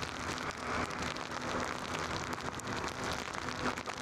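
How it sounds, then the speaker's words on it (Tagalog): Heavy rain pours down steadily in a windy, dusty storm, a dense, loud and continuous hiss of drops drumming on surfaces for the whole stretch, with no voices. "Lakas ang ulan."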